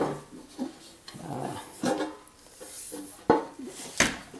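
A bread pan is set over bread dough in a home kitchen, giving a few soft scrapes and a couple of sharp metallic clunks against quiet handling noise.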